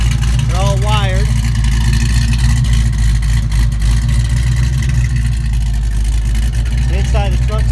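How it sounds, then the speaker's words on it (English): A loud, lumpy cammed engine in a 1969 Camaro idles close by with a rough, choppy rumble, steady throughout, with a few short whistling tones on top. "Hear a nice cam sound."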